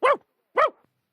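A voice imitates a dog, giving two short, loud barks about half a second apart, near and clear, with silence between and after them.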